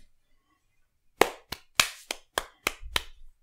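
Seven sharp hand claps ring out after a quiet stretch, close and loud, spaced unevenly at roughly third-of-a-second intervals, with no talking.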